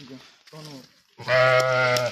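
Sheep bleat at a livestock market, two short bleats followed by a long, loud, close call, with people talking nearby.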